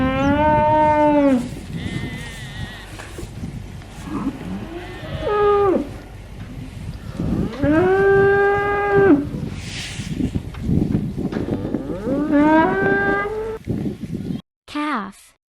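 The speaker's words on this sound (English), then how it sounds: "cow," A cow moos repeatedly, several long, loud, close lowing calls spread across the stretch, with other farm animal sounds mixed in and a voice speaking between the calls.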